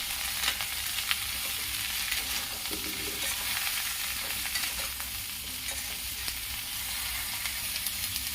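Food roasts with a teaspoon of salt in a pan over a low flame, a soft, steady sizzle and hiss with light stirring clicks and scrapes, fairly faint and without speech.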